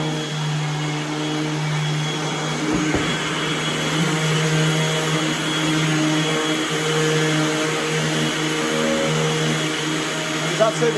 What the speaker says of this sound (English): All the dust is then sucked into the Hoover.